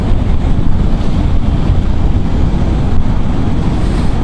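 Loud, steady roar of wind buffeting a helmet on a moving Ducati Diavel V4 motorcycle, a continuous low rumble with no speech.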